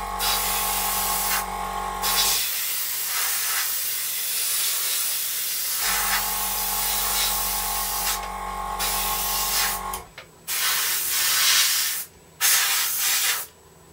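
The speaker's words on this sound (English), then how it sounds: "So I hope you can see how easily that's spraying with the primer already on there" Spray gun hissing wet paint onto a primed Su-27 scale model, continuous airy spray bursts with brief pauses around 2 s, 10 s and 12 s, close and steady over a low machine hum.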